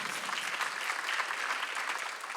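A Sunday worship congregation at a Korean church claps together, a steady, moderately loud patter of many hands with a slightly rhythmic texture and no talking over it.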